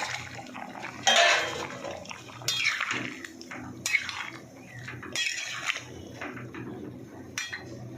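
Lentil fritters (bora) dropped into a pot of boiling curry, giving a few bright splashing plops and a sizzling, bubbling rush over a steady low simmer, close by with no talk.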